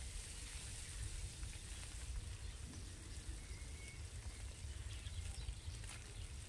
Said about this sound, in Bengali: মাছটা দিয়ে আমি ভেজে নেব।